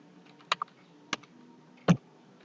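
A handful of sparse computer keyboard keystrokes while coding a click event listener, about four separate clicks with one louder thock near the end, close and otherwise quiet.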